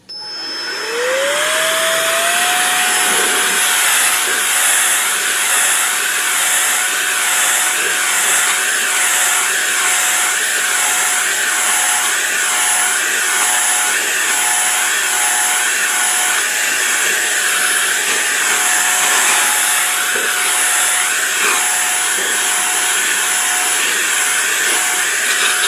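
Roedix R7 electric air duster blowing dust off a computer monitor screen: the motor spins up within a second, then holds a loud, steady, high-pitched whine with a constant rushing of air, close to the microphone.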